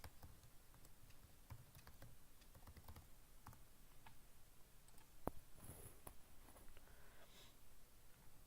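Soft keyboard clicks from an easy password being typed on a computer keyboard, quick irregular taps with one sharper click near the middle, faint against a low background hum.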